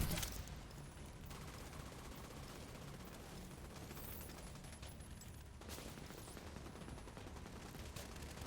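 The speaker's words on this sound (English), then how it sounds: "Gonna try to curve the bullet a little bit with these chem launcher shots." Chem launcher shots in The Division 2, a dense, continuous barrage of gunfire-like bursts filling the whole stretch with steady loud rumble and crackle.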